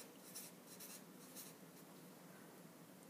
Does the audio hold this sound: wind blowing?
no